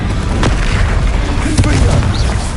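Incendio fire spell cast in Hogwarts Legacy, a loud booming burst of flame with deep rumbling impacts and sharp pops throughout a short, dense stretch of game combat.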